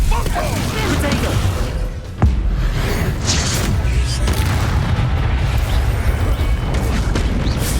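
Bombarda spell blasts in Hogwarts Legacy, a deep booming explosion that stands out around two seconds into a busy stretch of game noise, with other rumbling impacts and talk continuing underneath.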